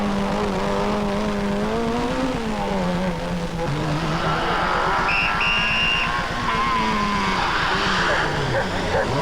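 Citroën rally cars race at the 1995 Boucles de Spa, engines roaring and revving loudly with shifting pitch and a tire squeal, under continuous race commentary.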